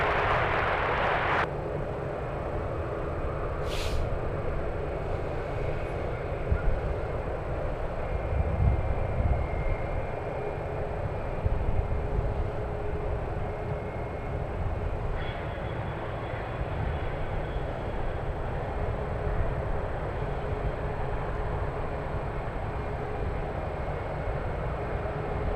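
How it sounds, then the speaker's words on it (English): A Lufthansa Boeing 747 rumbles at San Francisco airport, a broad, steady roar of jet engines with a brief higher whine early on, continuous and moderately loud with no talking. "First time the Yankee November 747 flies to San Francisco"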